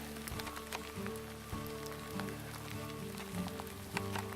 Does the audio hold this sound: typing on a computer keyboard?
no